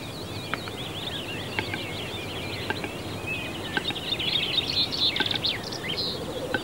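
Rare capercaillie calling at a late April dawn in forest, heard as a string of dry clicks and pops over a busy chorus of other birds, with steady faint background hiss throughout.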